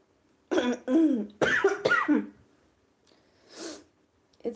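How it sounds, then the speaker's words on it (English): Several harsh, rough coughs, the lingering cough of an ill person, come in close bursts of two or three, then a quieter breath and a faint throat sound near the end. "It's this cough that won't go away."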